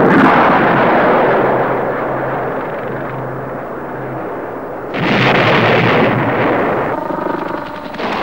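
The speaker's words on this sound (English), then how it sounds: "just long enough to fire a TOW missile and guide it to its target." An AH-1 Cobra attack helicopter firing a TOW missile: a loud, sustained roar and rush of the launch and rotor noise, a fresh surge midway, then a fading rattling tail.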